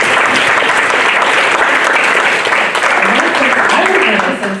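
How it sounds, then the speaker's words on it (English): An audience claps for the panelists at the close of a community panel discussion on poverty in St. Paul, sustained dense applause running throughout and tapering slightly at the very end. "We give them a round of applause."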